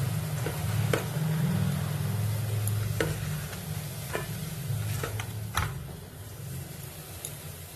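Mustard oil sizzles in a hot kadai for a fish curry, with a steady frying hiss and a spatula scraping the pan at irregular intervals.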